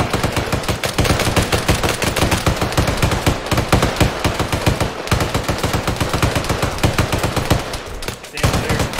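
Sustained automatic gunfire in a zombie shooter set in a radiation zone, a rapid, loud and evenly spaced burst of shots lasting nearly the whole stretch with only brief pauses.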